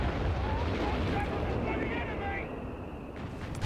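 In the video game Company of Heroes 3, howitzer shells land in a dense, rumbling wash of explosions and battle noise, heavy and continuous, while a commentator talks over it.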